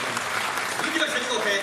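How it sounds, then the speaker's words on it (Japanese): An audience at a boat race venue claps loudly and continuously after a racer's interview, a dense, lively wash of applause with some crowd voices mixed in. "すごい拍手。"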